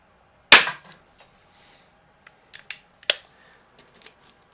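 A Crosman Silhouette air pistol fires a single sharp, loud crack, followed by a few faint clicks and handling taps in an otherwise quiet outdoor setting.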